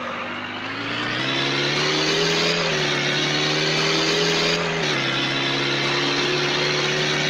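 A car accelerating in a driving video game, with a loud, steady engine drone that climbs in pitch, briefly drops at a gear change, then holds strong.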